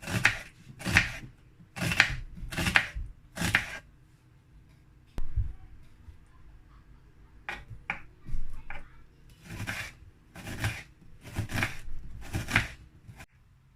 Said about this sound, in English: I'm going to cut the onions.